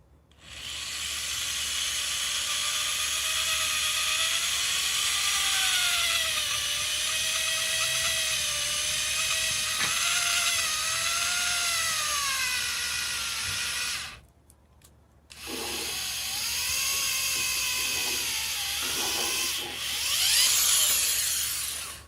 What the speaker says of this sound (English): I'm going to start with a pilot hole for these screws